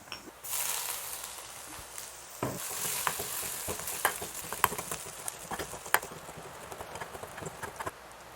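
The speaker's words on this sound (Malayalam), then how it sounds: "വെളുത്തുള്ളി ചുമന്ന് ഇനി ഇഞ്ചി ഇട്ട് കൊടുക്കാം." Ginger added to hot oil with garlic, shallots, fenugreek and mustard seeds for a lubikka pickle: steady close sizzling with sharp spatters and the scrape of stirring, continuous and loud without any talk.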